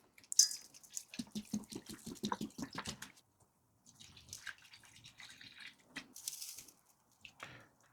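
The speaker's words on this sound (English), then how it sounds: "I'm going to add 2/3 vinegar to 1/3 Worcester sauce" Vinegar and Worcestershire sauce poured over cut lamb for biltong, a close liquid trickle and splashing in uneven spurts with pauses between, fairly quiet with no talking.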